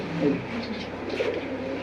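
Pigeons coo in a loft holding male birds and racers, soft throaty calls repeating over a busy background murmur.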